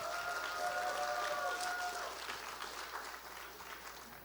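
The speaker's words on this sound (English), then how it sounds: "Give yourselves another round of applause." Applause from an audience at a Doing Democracy Day finals event, steady broadband clapping that slowly fades over several seconds, with a brief tonal whistle-like sound early on.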